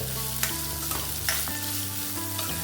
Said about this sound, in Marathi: आणि छान असं आपल्याला गोल्डन होईपर्यंत परतून घ्यायचे कांदे.